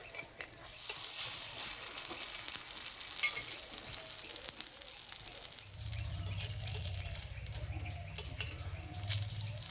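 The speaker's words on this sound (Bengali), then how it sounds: "আস্তে আস্তে জাল দেবার এই নাস্তাগুলো ভেজে নেব, তাহলে ভিতর পর্যন্ত খুব সুন্দর ভাজা হবে।" Semolina and vegetable snacks frying slowly in oil over low heat, a steady soft sizzle with occasional light clinks of a spoon turning them in the pan.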